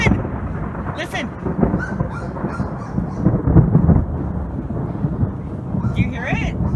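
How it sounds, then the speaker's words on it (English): Thunder rumbling over Lake Elsinore during a thunderstorm, a low, continuous broadband roar that swells around the middle, with faint bird calls and brief voices in the background. "It's fucking thunder and lightning, dude."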